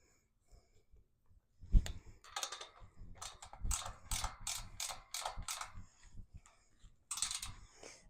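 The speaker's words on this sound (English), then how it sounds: "I've got a little ratchet here, and we're going to hold this up against there as best we can and tighten this thing down." Small hand ratchet tightening a half-inch nut on a gate, its rapid clicking bursts coming close and moderately loud in short runs with brief pauses between strokes.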